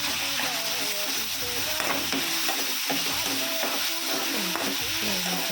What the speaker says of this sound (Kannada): ಉಪ್ಪು, 1 ಸ್ಪೂನ್ ಅರಿಶಿನ ಪುಡಿ ಹಾಕ್ಬಿಟ್ಟು ಸ್ವಲ್ಪ ಮಿಕ್ಸ್ ಮಾಡ್ಕೊಳ್ತೀನಿ